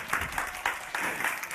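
A church congregation breaks into applause, steady soft clapping from many hands across the room, moderately loud with a faint voice beneath.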